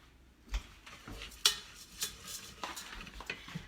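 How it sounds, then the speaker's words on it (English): Onion and peppers sautéing in a pan at home, heard as scattered utensil scrapes and clinks against the pan with a faint sizzle underneath, moderately quiet with several sharp knocks. "now we're just going to saute the onion and peppers."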